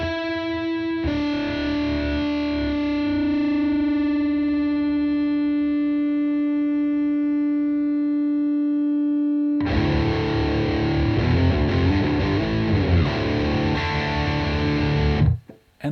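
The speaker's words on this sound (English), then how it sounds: "I just tuned my guitar back to standard E just to let you hear it one more time." An electric guitar in standard E tuning rings out a sustained distorted chord, then a second, harsher distorted strum with fluttering modulation, both loud and close with no talking.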